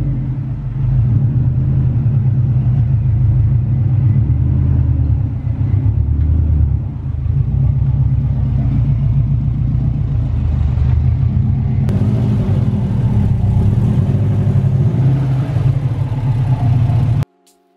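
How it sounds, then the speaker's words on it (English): A Subaru Impreza's engine rumbles loudly and steadily up close as the car is moved back into a garage bay, a low idle with small throttle changes, then it cuts off abruptly. "we'll move the car back into the bay and get it jacked up"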